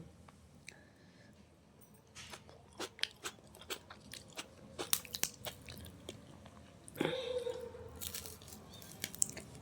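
Close, crisp bites and chewing on hand-mixed vegetable khichuri served hot with rice, irregular crunchy mouth sounds scattered across the stretch with no talking.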